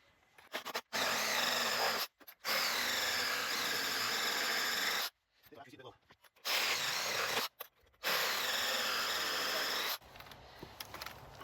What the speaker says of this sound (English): I'll use the sawzall to get it the rest of the way down